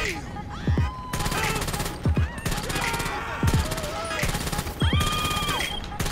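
Gunfire from an unsilenced weapon in GTA San Andreas Mercenaries, loud repeated bursts of shots spread across the stretch with sharp transient cracks, mixed with game sound effects and music.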